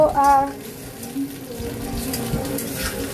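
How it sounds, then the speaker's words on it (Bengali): Potatoes fry in a pan at home with a steady, close sizzle that runs the whole time, and a brief murmur of voice can be heard near the start. "চলো এদিকে আমার আলুটা ভাজা হচ্ছে"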